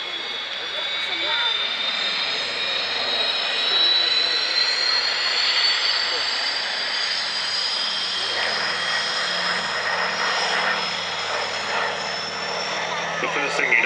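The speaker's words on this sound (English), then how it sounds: "It was a pure flying boat at that stage, but this is a PBY 5A model" The engines of a PBY-5A Catalina amphibian drone steadily and loudly with a high whine on top, continuous for the whole stretch at an air show, while someone speaks over the noise.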